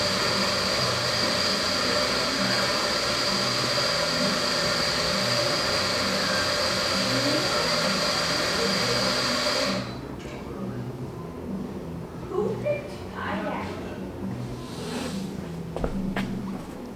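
An electric coffee grinder grinds beans with a steady, loud, close whirring drone for nearly ten seconds, then shuts off, leaving quiet room sounds and a few soft knocks.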